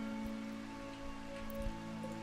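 Steady rain falls in the video game Rimworld, a continuous soft hiss of drops that stays even throughout with no talking over it.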